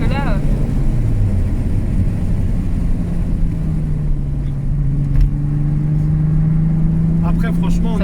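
Loud in-cabin drone of a 1990s Volkswagen Golf III VR6 Syncro on the road, with steady engine hum that rises in pitch as it accelerates, and people talking over it.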